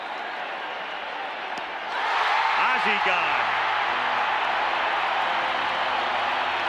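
Frenzied baseball crowd at a 1987 World Series game, a broad steady roar that swells loudly about two seconds in and holds, with a commentator talking over it.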